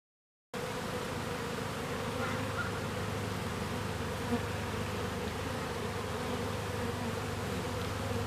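Continuous, even buzzing of many bees, a dense droning hum that fills the whole clip at moderate level after a brief silent start.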